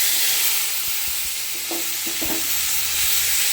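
Grated onion frying in oil seasoned with black cumin for a carp kalia, a steady close hiss of sizzling broken by a few soft scrapes of stirring, no voices.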